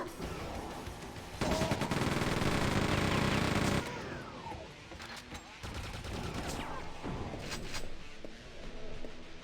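Chain gun in Quake 2 fires one loud sustained rattling burst of about two seconds, followed by scattered shots, impacts and game noises at a lower level.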